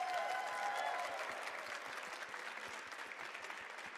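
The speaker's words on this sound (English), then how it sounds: "So big round of applause." Dense audience applause fills a tournament hall at a Dragon Ball Legends event, a steady wash of many hands heard from a distance and fairly soft.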